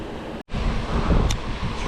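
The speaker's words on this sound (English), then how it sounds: "It's really, really windy today" Strong wind at an urban pond buffeting the microphone in loud, continuous gusts, with a brief dropout and a roaring, rumbling rush throughout.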